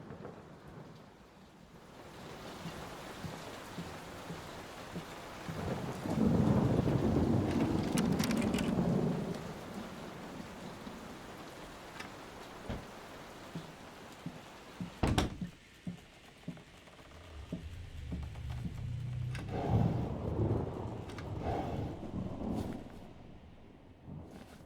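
Heavy rain and rolling thunder from a storm in the horror game Layers of Fear, with a loud thunder swell early on, a sharp crack mid-way, then a deep rumble building as steady rain continues throughout.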